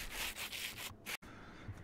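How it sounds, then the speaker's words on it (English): Sandpaper rubbing against rose quartz in the Minecraft Create mod, a game-style scraping loop in several quick repeated strokes with a brief cut-out near the end, heard alone. "you hold the sandpaper in your offhand and then the rose quartz in your on hand. And you just hold down right click and you'll get your polished rose quartz"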